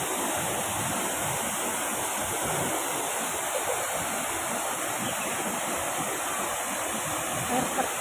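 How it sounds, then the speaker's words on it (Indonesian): An artificial waterfall in a park in Tsuen Wan, Hong Kong, pours with a constant, dense roaring rush of water, steady and close throughout with no pauses. "Air terjun buatan di Gunwan, di Taman Gunwan."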